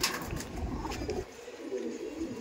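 Racing pigeons, a summer-flown homing breed, give soft cooing calls from a close loft, with louder broadband handling noise in the first half and a quieter stretch after.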